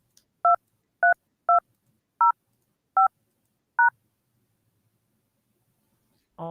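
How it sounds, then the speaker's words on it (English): Six DTMF keypad tones punch a PIN into a phone conference line, evenly spaced short beeps, clear and alone, followed by a brief voice at the very end. "If you are the moderator, dial your PIN number now."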